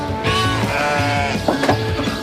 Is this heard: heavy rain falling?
no